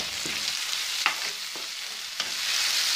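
Turmeric and red chili powder are stirred into a frying Maharashtrian dal tadka, giving a steady close sizzle with several sharp spoon scrapes and taps against the pan.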